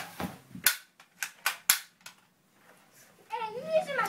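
A toy cap gun pistol fired several times in quick succession, sharp close snaps in an uneven rhythm, followed by a voice talking.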